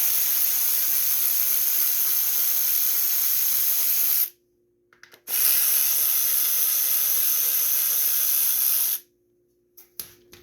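Air tool or power wrench running in two long, steady bursts while removing 15/16 bolts from the engine shroud of a Craftsman 5.5 hp pressure washer, separated by a short pause and ending with a few light clicks.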